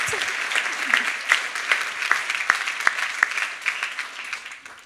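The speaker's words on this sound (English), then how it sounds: "applause to that" A crowd at a fashion week event in Berlin applauds in a full, lively round of clapping with a few sharper claps standing out, tapering off toward the end.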